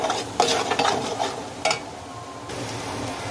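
Masala with salt frying in a pan for kala mutton, stirred with a utensil that scrapes and clatters in quick strokes over a steady close sizzle.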